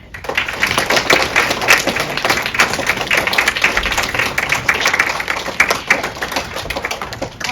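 An audience claps steadily and loudly at a Latin exam awards ceremony for the honored students, with dense overlapping hand claps and no speech.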